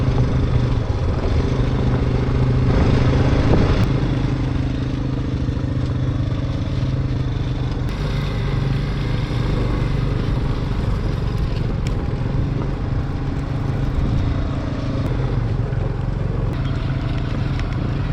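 An ATV engine runs continuously during a ride on an adventure course at Naukuchiatal, Uttarakhand, a steady close mechanical drone with rattling clatter and slight rises in pitch, mixed with outdoor background noise.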